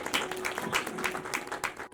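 An audience at a book launch event claps in welcome, a brief burst of dense, rhythmic applause from a roomful of people, fairly close and with no talk over it.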